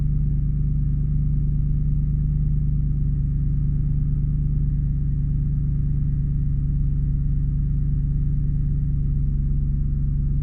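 A Land Rover Discovery 3 with a 4.4 V8 engine idles steadily, a close, continuous low rumble that holds even throughout with no voices.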